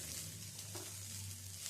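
Grated ginger and dalia stir-fry in a pan, giving a soft, faint sizzle with a light scrape or two and a low background hum.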